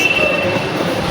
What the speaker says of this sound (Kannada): ಟ್ರೈನ್ ಬಂತು ಗೈಸ್